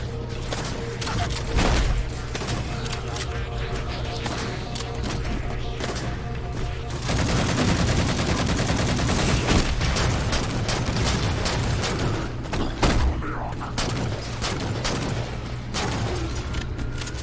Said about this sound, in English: Gun sounds are quite awesome and more of that realism.